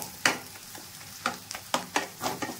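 A spatula stirs snake gourd batter, made without water, as it fries in a pan: a quiet sizzle broken by a rhythmic series of sharp scraping clacks, close up.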